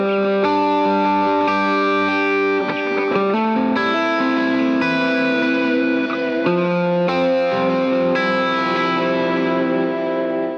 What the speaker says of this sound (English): I'm playing pretty much the same chords, but just using an overdriven sound and like just more picking